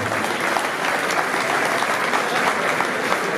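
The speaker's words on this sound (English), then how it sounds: "A big round of applause for the boxers." Steady applause from a boxing crowd after a bout, dense and continuous clapping that holds at an even, fairly loud level throughout, with no voices on top.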